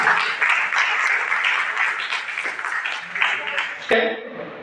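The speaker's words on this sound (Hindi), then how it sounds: "जोरदार तालियां" Loud, sustained applause from an audience at a public gathering, a dense wash of clapping that swells and fades before cutting off near the end.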